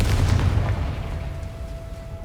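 Confringo fire spell blast in Hogwarts Legacy, a loud, close, deep explosive boom with a rumbling burst that fades over about a second, no voices.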